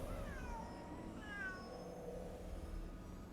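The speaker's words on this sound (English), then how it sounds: "Lots of cats here." Several cats meow in the Ghostwire: Tokyo video game, with a few thin rising and falling cries over a soft, steady ambient backdrop. The cries are moderately faint and carry no talk.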